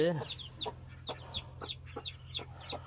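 A hen with five newly hatched chicks: a brief low cluck at the start, then a steady series of high, thin peeps from the chicks close by.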